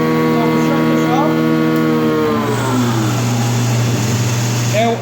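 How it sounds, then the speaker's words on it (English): Felder BF 631 combination woodworking machine shutting off under its electric brake, the motor hum sliding down in pitch over a few seconds and settling into a lower steady tone, with faint background noise. "whenever you shut an operation off, it's electrically braked, so the machine isn't running on and on"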